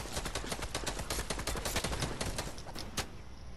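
Video game gunfire in a fast-paced shooter match: dense, loud bursts of rapid automatic shots crackle almost continuously for a few seconds, with a sharp louder crack near the end and no talking.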